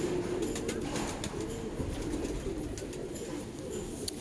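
Pigeons at a breeder's loft in Allahabad keep up a steady, close cooing drone throughout, with a few light rustles and scratches over the top.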